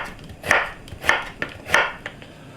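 Radish is cut into thick strips on a board for winter oyster rice, three crisp knife chops spaced about half a second apart, close and fairly loud, with no talking.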